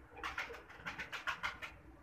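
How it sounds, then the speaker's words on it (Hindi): A pigeon coos nearby in a short run of soft, throaty notes, repeated in a quick rhythm. "सात बाजी का कबूतर, बहुत बड़ा कबूतर है"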